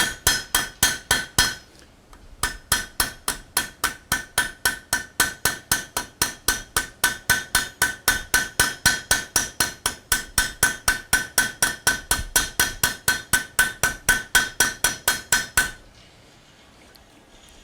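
A hammer strikes a rivet on a forged barbecue spoon, a long run of sharp metallic blows at a steady, fast rhythm, close and loud. The blows pause briefly near the start and stop before the end.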